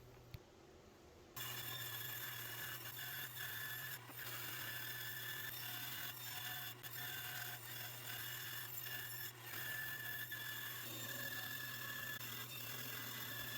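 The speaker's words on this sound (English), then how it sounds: "the next step is to cut the shape out at the bandsaw" A bandsaw cuts a skateboard shape out of plywood, giving a steady, faint rasping whir with a constant motor hum that starts abruptly after a quiet moment and runs on evenly.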